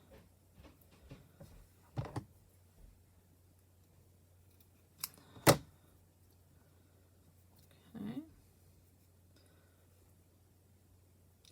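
Scissors trimming craft material for a bow: a few quiet, separate snips spread across a near-silent room, with one sharper cut standing out, close to the microphone.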